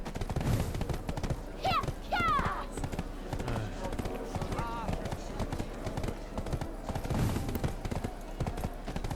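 Steady clip-clopping of horse hooves at a gallop in Black Desert Online, a busy rhythmic patter running throughout, with game sound effects and a voice talking over it.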